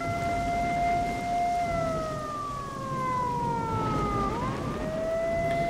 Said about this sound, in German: Mach mal einer die Sirene aus